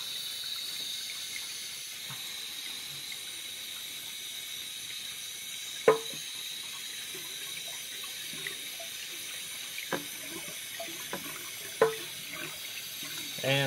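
Water runs steadily from a toilet tank that is overfilling past its water line and overflowing, a constant faint hiss and trickle with a few soft clicks and knocks nearby.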